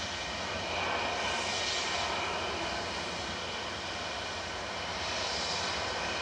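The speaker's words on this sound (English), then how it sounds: "off to Malaga. Flight 809, Boeing 757." A Boeing 757 jet departing Manchester Airport for Malaga, its engines producing a sustained, fairly loud broadband roar with gentle swells, continuous and without voices.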